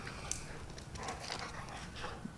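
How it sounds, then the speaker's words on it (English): A neighbour's dog barks next door, a few faint, distant barks scattered through a quiet outdoor background, with no speech. "That's not him barking, by the way. That's next door."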